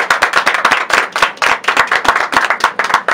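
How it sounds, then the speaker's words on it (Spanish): A few people clap for a mayoral pre-candidate before an interview, the claps sparse and uneven, loud and close, with sharp separate hits and short gaps between bursts. "Un aplauso."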